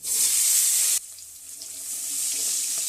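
Eggplant and lentil dumplings frying in hot oil, a bright hissing sizzle that cuts off abruptly, then a softer, steady frying crackle continues, with no voices.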